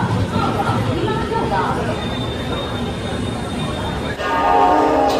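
Busy railway station platform where the Kriya Yoga Express 18615 stands, with continuous crowd chatter and rumbling station noise, a brief high whine midway and a sudden louder shift near the end.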